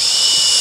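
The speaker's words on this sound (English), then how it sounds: "But I feel pretty good about my drilling right now, so I'm going to go with them all." A power drill runs steadily, close and loud, while pre-drilling screw holes for butt hinges during a woodworking inlay job.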